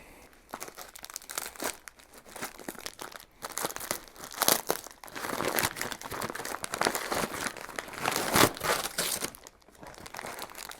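Paper packing material crumpled and rustled while a box is unboxed, crinkling and tearing bursts of varying loudness in an irregular rhythm, close up and continuous for several seconds, no talk.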